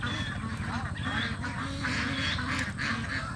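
Farm ducks kept in a pen give repeated honking quacks in overlapping bursts, fairly close and moderately loud, over a low background hum.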